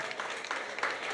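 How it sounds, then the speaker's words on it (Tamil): Clapping from a hall audience at a Catholic priestly ordination ceremony in Pilar, a steady broadband patter that holds for about a second with small swells. "இன்னும் கைத்தட்டல் அதிர வேண்டாமா?"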